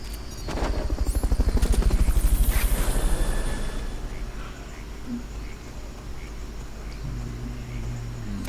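A video game helicopter's rotor thumps rapidly and loudly, swelling then easing off into a steady background drone, in Metal Gear Solid: Peace Walker.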